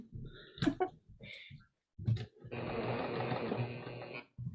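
A domestic sewing machine runs in a steady, close stitching burr for about two seconds, preceded by a few clicks and handling noises before it starts, then stops abruptly.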